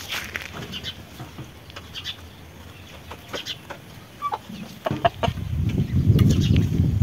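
Scattered soft clucking from several chickens on a rural farm, with rustling and low background noise building toward the end.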